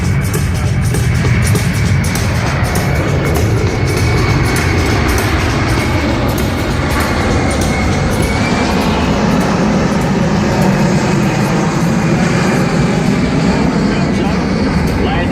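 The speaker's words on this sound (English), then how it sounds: "Now the C-17 is going to show its ability to fly at slow speeds" A C-17 military transport aircraft flies low and slow at a New York airshow, its jet engines producing a loud, steady roar that fills the whole stretch, with a public-address commentator talking over it.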